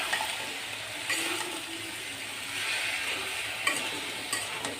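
Cut pumpkin pieces hit a pan of fried onion and start frying, giving a steady broadband sizzle with occasional scraping stirs, fairly close and moderate in level, with no talking.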